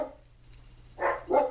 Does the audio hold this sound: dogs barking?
yes